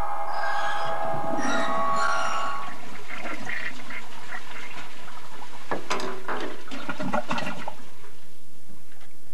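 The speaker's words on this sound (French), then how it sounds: "Nous tirons la chasse d'eau." A toilet is flushed, giving a loud close rush of water in a couple of surging bursts that trail off into quiet, after some earlier tonal sounds.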